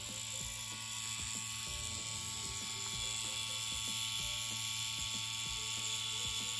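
A Cheyenne pen tattoo machine running at 9 volts gives a steady, even mechanical buzz with a fast regular ticking pulse, close and fairly quiet, with no voices.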